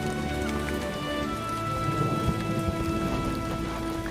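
Steady, dense rain falls on an African savanna during the rainy season, a continuous close hiss of drops with a faint low rumble underneath and no talk.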